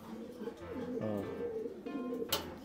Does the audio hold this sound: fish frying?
no